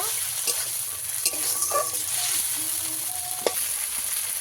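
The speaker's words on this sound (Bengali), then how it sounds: "আবারও ভালো করে ভেজে নেব" Fresh pond-caught rohu fish frying in a pan, steady hissing sizzle with occasional spatula clicks and scrapes, close and moderate in level, no talk.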